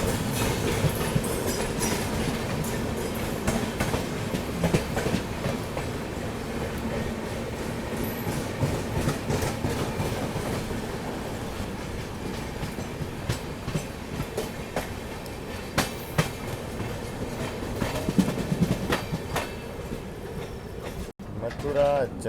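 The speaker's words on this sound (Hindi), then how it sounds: "हमसे गाड़ी जा रही है उस लाइन पे," Punjab Mail, the Firozpur–Mumbai CST express, rolls past on the adjacent line at Mathura Junction, a steady loud rumble with continuous clickety-clack of wheels over rail joints, heard from inside a neighbouring train.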